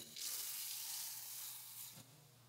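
Rinsed and drained lentils hit a hot pan of aromatic spices, giving a steady, fairly quiet sizzle and hiss that eases off toward the end.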